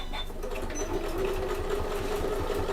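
A sewing machine runs steadily while stitching a fabric bag at a short stitch length, a close, even mechanical hum with rapid needle clatter and no talking.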